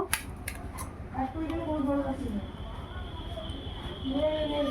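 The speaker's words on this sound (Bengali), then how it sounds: "ভেন্ডিগুলো আমি এইভাবে কেটে নেব" Okra (bhindi) being cut with a knife in a home kitchen for a masala recipe, with faint, soft cutting clicks early on under a steady background hum while someone talks.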